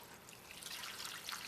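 Warm water from a cup trickles and drips over a roasted chicken, a soft, faint steady pour of liquid with no talking.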